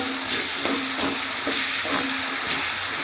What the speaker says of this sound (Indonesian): Ini juga masukin kembali dagingnya, aduk sebentar, nanti kita angkat ya.